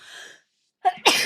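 A single sharp sneeze bursts out loud and close after a moment of quiet, preceded by brief talking.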